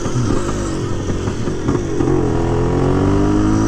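A 1978 Yamaha DT400 motorcycle engine labours up a steep hill, a loud close two-stroke drone with rising revs and a brief dip as it upshifts, with no talk.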